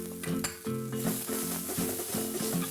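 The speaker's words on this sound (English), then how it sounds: "Cook the onions slightly, but don't let them turn brown." Chopped onions and green chilies with asafoetida and curry leaves sizzle steadily in a pan for a Gujarati dish, a continuous frying hiss under a layer of tonal background music.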